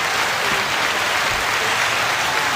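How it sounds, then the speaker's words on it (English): Steady, dense applause from an audience fills the moment at close range, a continuous broadband clatter of many hands with no voices over it, holding an even level throughout. "It's just straight applause for that."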